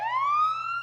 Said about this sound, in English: We're doing fire truck sirens.